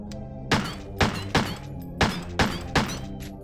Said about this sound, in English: I'm gonna shoot this barrel.